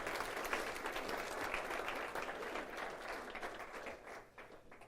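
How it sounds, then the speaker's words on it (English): Sustained audience applause in a hall, dense and steady clapping for the full duration, easing slightly near the end with no talking over it. "Round of applause, please."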